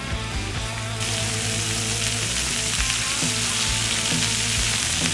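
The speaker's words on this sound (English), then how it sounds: "Gonna get the grilled onions on and the mushrooms on." Onions and mushrooms fry in olive oil on a hot plancha, giving a steady, close sizzle throughout, broken by soft clinks and scrapes of a spatula.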